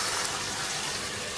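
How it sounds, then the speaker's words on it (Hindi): Water poured into a pot of cooking chicken, a brief steady gushing splash that fills the moment with broad hiss. "1/4 प्याली पानी की डाल देंगे।"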